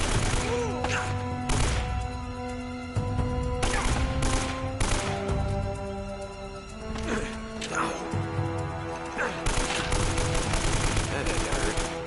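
Repeated bursts of AK rifle fire in the video game Uncharted: Drake's Fortune, loud and close, with short rapid volleys separated by brief gaps, over layered game effects and a tonal background score.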